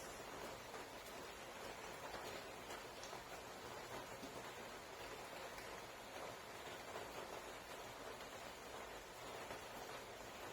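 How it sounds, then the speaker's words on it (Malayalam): Steady rain falls outside during home cooking, a constant soft hiss of drops with no breaks, faint and even, with no talking. "നല്ല മഴയുണ്ട് ഇപ്പൊ."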